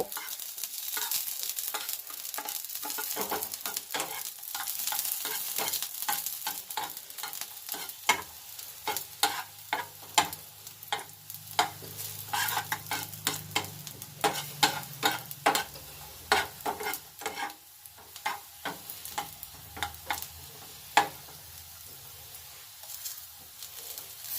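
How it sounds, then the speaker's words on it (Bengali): Chopped garlic fries in ghee as part of a village-style dish, a steady close sizzle with a dense run of stirring clicks and scrapes from the spoon against the pan, and no talking. "প্রথমে ঘিয়ের মধ্যে রসুনগুলিকে অল্প একটু ভেজে নেব"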